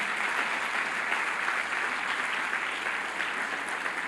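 A church congregation applauds, a dense, steady burst of clapping filling the room for a few seconds.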